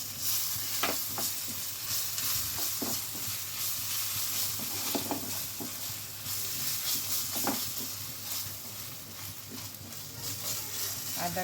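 Chopped ginger and green chillies fry in oil for an aloo khasta kochuri filling: a continuous, fairly loud sizzle with occasional knocks and scrapes from a stirring spoon.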